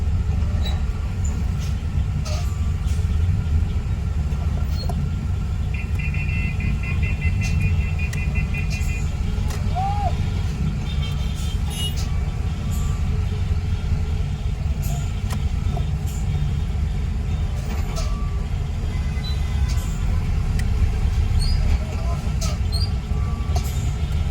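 A large truck engine idles in a heavy traffic jam on a road under construction, a steady low rumble throughout with passing vehicle noise, brief horn-like tones and faint background voices.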